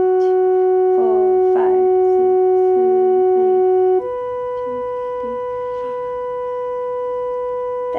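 A keyboard holds sustained organ-like chords from the instrumental section of a song, shifting once to a new chord halfway through, while quieter sung or hummed notes weave underneath.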